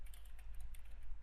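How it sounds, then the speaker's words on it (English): Computer keyboard typed on quickly, with rapid light key clicks in an uneven rhythm, close and fairly soft, over a low steady hum and without speech. "Well, just type the data placement."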